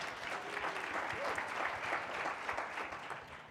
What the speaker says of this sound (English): So I think we should applaud that